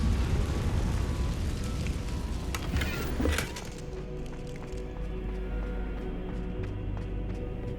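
A Confringo blasting spell detonates in the Hogwarts Legacy video game, a dense roaring burst that swells for a few seconds, cracks sharply near its peak and then settles into a lower rumbling tail.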